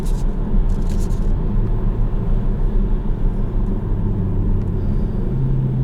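A 2021 Kia Stinger GT-Line pulling hard out of corners at night, its engine a loud, steady rumbling drone inside the cabin with slight swells in pitch and no talking.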